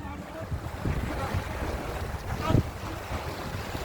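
Sea waves washing onto the shore at a beach in Tigbauan, Iloilo, a steady broad rush with a louder surge near the end, mixed with wind noise on the microphone.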